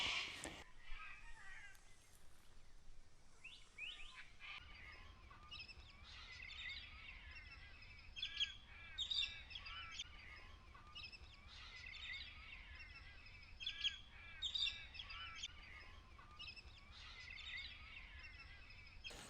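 Birds call and chirp repeatedly around a pond at dusk, with crow-like caws among the higher chirps. The calls are moderately distant and come and go in bursts over a steady low outdoor rumble, with no talking.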